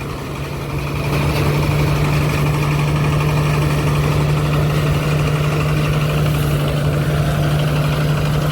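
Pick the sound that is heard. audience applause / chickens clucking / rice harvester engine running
rice harvester engine running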